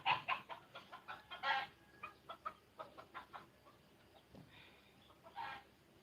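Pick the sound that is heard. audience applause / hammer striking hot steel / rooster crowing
rooster crowing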